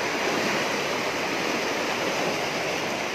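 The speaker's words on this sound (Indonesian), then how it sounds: "Banjir habis maghrib sampai sekarang belum surut-surut." Floodwater after a flood in Grobogan, Central Java, rushes in a steady, loud roar like a stream or waterfall, constant and close, with no voices.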